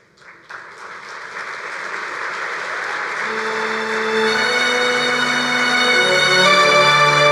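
An audience at a bowling association's annual convention meeting applauds, starting thin and swelling into sustained, loud clapping as the crowd joins in, with no talking.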